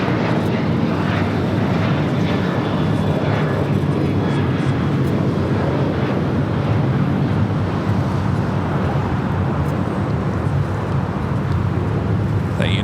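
A United Airlines 757-300 takes off from runway 25 right at Los Angeles International Airport, its engines a loud, steady broadband roar with low rumble holding throughout at a distance, mixed with faint ambient traffic.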